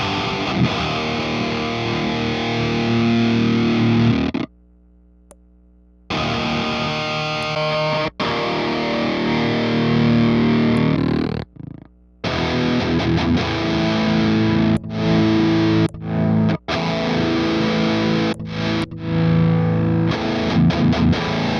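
Distorted electric guitar played through a Lava Studio amp using NAM amp-model tones, loud and heavily driven, with short breaks between strummed phrases and no talking.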